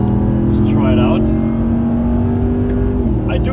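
A 707hp Dodge Ram TRX truck pulls hard on a German autobahn, its engine drone rising steadily in pitch under constant road and wind roar, then dipping briefly as it shifts.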